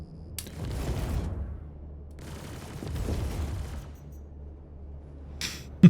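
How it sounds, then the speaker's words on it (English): Muffled explosions and bursts of gunfire rumble in Star Citizen space combat, two long booming swells with crackling impacts, followed by a sharp hit at the very end. "Those explosions are always so satisfying."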